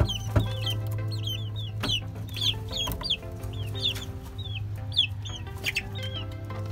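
Green legs chickens on a rooftop poultry pen cluck and chirp in repeated short calls, some close and some farther off, over a steady low mechanical hum.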